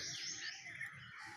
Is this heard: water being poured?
no